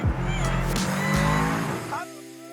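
An Aston Martin DBX707 spins its tyres with a loud squealing screech over a roaring, revving engine, close by, before the noise cuts down and settles to a lower engine drone; a voice exclaims over it.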